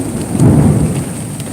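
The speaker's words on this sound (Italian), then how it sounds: "Sì, dei tuoni sì, mi fa paura, la verità." During heavy bad weather, a low rumble of thunder rolls under steady pouring rain, swelling briefly and then easing while raindrops patter continuously close by.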